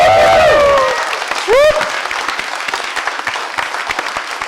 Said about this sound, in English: can we give a round of applause to all the volunteers who are working so hard here?